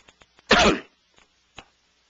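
A man clears his throat once with a loud, raspy burst, framed by a few faint clicks and followed by a short, quieter cough.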